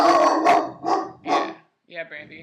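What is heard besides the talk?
dog barking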